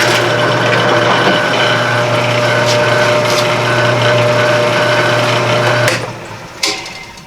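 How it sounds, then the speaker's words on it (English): A power drill drives a hole saw through a rough sawn oak board corner, a loud steady high whine with cutting noise for about six seconds, then stopping with a brief restart burst near the end. "So I'm going to take this hole saw, drill these corners, and saw this centerpiece out."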